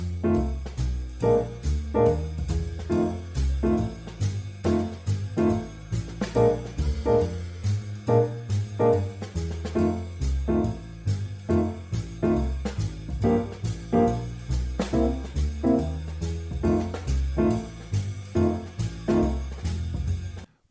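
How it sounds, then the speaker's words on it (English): Jazz blues shell voicings on piano play over a bass and drums backing track. Steady swung drum hits and walking bass run under rhythmic piano chords for about twenty seconds, loud and continuous, with no speech. "If we were to play that with the bass and drums backing track, it would sound like this."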